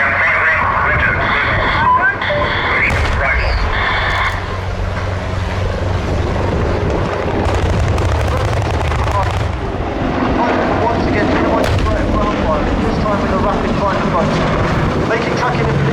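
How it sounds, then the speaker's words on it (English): Apache attack helicopter firing its 30mm cannon with high-explosive rounds during a flying display at an air show, heard as bursts of heavy fire over loud, continuous rotor and engine roar, with a commentator talking over it. "followed up with the Apache's 30mm cannon firing high explosive rounds"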